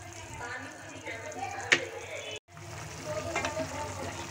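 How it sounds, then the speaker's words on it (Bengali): Sugarcane jaggery being stirred into an orange and grape chutney in a pan, a soft sizzle with a few spoon scrapes and one sharp clink, under a voice. "একটু নেড়ে চেড়ে দেব।"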